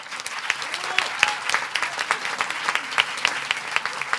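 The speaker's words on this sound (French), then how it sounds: "on peut l'applaudir à l'administration de production, Marie-Ange Estrada." An audience applauding steadily at a film festival awards ceremony, a dense patter of many hands clapping at moderate volume with a few sharper claps standing out.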